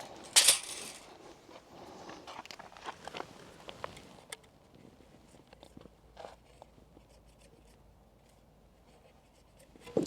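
Faint scratchy pen strokes on a surface, short bursts with pauses, close by, starting with a sharper tap or scrape.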